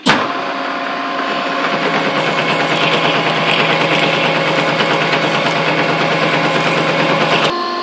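A 30 mm hole is drilled on a machine tool, a steady loud mechanical whine and hum with a constant motor tone. It runs for several seconds, then stops abruptly, with no talk.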